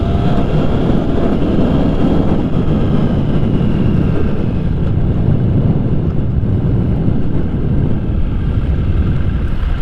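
A motorcycle engine pulls hard through the gears on a road, its loud steady drone and wind rush continuing as a quick shifter snaps each upshift without a break in power.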